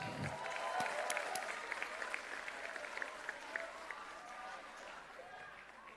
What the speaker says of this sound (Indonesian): Kita sambut dengan tepuk tangan yang meriah Ketua Umum PSI, Bro Kaesang Pangarep